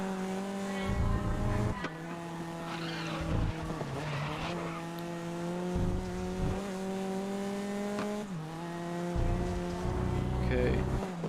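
Race car engine in the video game Grid holding a steady high-pitched drone with shifting revs and gear changes, tires squealing and skidding at moments, loud and continuous on a final lap.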